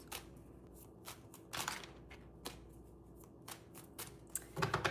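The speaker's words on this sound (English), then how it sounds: "Let me just shuffle the cards a little bit." Tarot cards being shuffled by hand give quiet, crisp riffling bursts and soft slaps, coming in irregular clusters close up with short pauses between and a denser flurry at the end.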